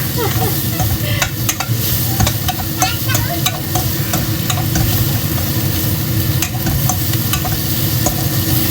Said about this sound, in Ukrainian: Це я все ще шкварю